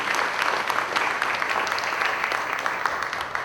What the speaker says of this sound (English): let's give Ben a Walton County Chamber of Commerce round of applause